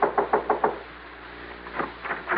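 Knuckles rap on an apartment door in a quick series of four or five firm knocks, followed by a pause and then another burst of knocking, close and distinct against a quiet background with a low hum.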